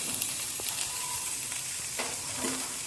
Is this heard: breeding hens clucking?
no